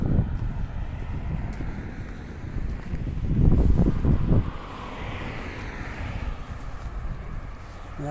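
Wind blows steadily across the microphone on a city street walk, a loud continuous rushing buffet that swells into a stronger gust partway through.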